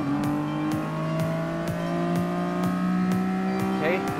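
Race car engines in a Gran Turismo Sport night race at Tokyo South roar in rising, repeated gear-shift sweeps with a regular ticking pulse, loud and continuous, as several cars accelerate together.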